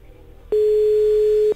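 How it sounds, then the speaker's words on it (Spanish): A single steady telephone ringback tone heard while placing a call, one loud, even beep lasting about a second, with faint background noise before it. "está sonando de fondo el teléfono de ella"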